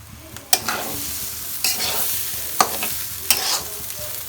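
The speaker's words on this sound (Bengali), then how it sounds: "এইভাবে আমি ভাজা ভাজা করে নেব চালটাকে" Rice sizzles in a hot pan while a utensil scrapes and stirs it, with four or five sharp scraping strokes over a steady fry.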